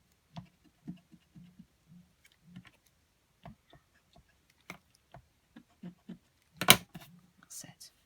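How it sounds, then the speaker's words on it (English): A rubber eraser scrubs away pencil marks on craft card in short, soft, scratchy strokes spaced out at an irregular rhythm, with one louder sharp rub near the end, quiet and close. "I'm just going to rub out those pencil marks."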